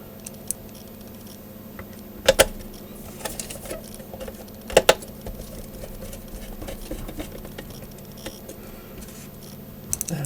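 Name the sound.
screws being fitted into Kenpro rotator controller base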